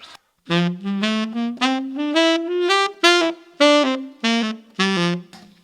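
A jazz articulation exercise played on a melodic instrument with a galloping, clipped feel: about a dozen short, detached notes climb gradually in pitch, loud and close, with small gaps between them.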